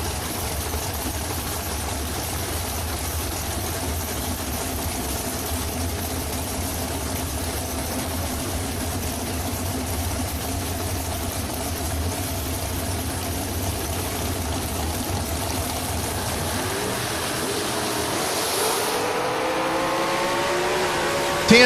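A pair of dragsters race down a drag strip, a loud sustained engine roar heard from a distance that holds steady and then swells and shifts near the end as the cars pass.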